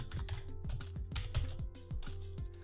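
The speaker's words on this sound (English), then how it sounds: "so we'll type in getfile again." Typing on a computer keyboard while coding in Python, a quick close run of crisp key clicks in uneven bursts with short pauses, heard alone.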